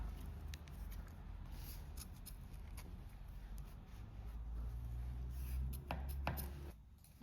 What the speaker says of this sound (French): vous pouvez couper le fil au ras